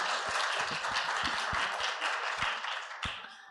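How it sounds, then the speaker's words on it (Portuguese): A small audience of students at a talk applauding, steady clapping with a few sharper individual claps standing out, fading gradually toward the end. "Podem aplaudir"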